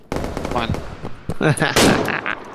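Gunshots ring out in quick bursts amid loud action sounds in the video game Operation: Harsh Doorstop, with a voice talking over the shooting.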